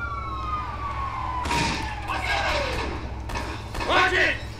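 A police siren wails and sweeps downward in the video game Kane & Lynch 2, fairly loud, mixed with sharp in-game bursts and a voice speaking over it.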